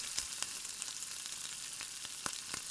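Quail eggs stirred into a sizzling masala gravy in a pan: a soft, constant frying hiss with a few sharp spoon clicks against the pan, fairly quiet and without talking.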